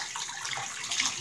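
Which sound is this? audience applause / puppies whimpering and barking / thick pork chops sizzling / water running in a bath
water running in a bath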